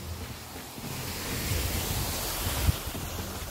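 The Shoja waterfall near Jibhi, Himachal Pradesh, gives a steady, full-bodied rushing roar of falling water, with no voices and a single low thump near the end.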